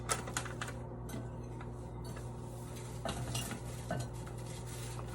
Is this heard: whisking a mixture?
yes